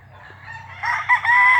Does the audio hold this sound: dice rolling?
no